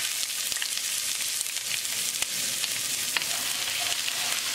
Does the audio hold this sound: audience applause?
no